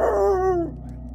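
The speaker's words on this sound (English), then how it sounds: "I hear one of the dogs howl" A dog lets out a single short howl with a falling, drawn-out tone, close and fairly loud, with no other sounds around it.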